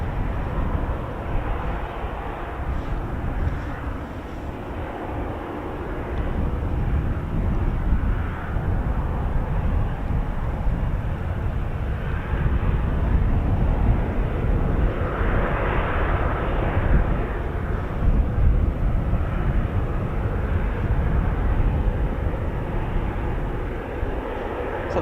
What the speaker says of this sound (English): So this is the P-8 Poseidon.